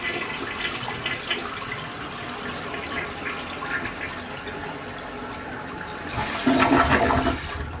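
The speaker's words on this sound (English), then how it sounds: "I'm just going to flush this one more time so we make sure" Toilet flushing in a home bathroom during cleaning, a rushing swirl of water that stays low at first and then surges loudly near the end as the bowl empties and refills.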